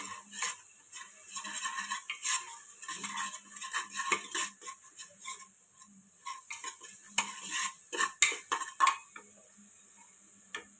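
A spoon stirs a spice mix with half a small spoon of coriander powder in a pan over low heat, giving irregular metallic clinks and scrapes close by with no talk.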